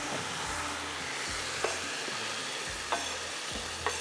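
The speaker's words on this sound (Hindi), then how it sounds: "इसमें जाएगा ये अदरक लहसुन वाला मसाला" Ginger-garlic masala sizzles loudly in browned fried onions in a pan, a steady broadband crackle with a few sharp stirring clacks and spoon knocks spaced through it.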